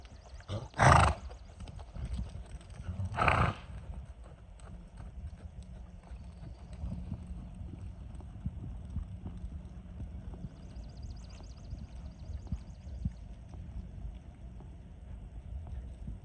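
A horse moves near a stall, with two sharp, loud hoof knocks early on, then quiet shuffling and faint background noise.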